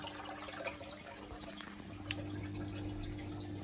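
Inside a Bosch WFP3300 washing machine, heavily scaled with limescale, the drain pump runs during the first rinse, giving a faint, steady hum under trickling, dripping water.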